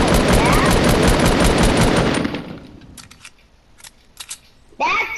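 Rapid, loud gunfire from the Fortnite video game fills the first half, then fades to scattered faint clicks and a short burst at the end.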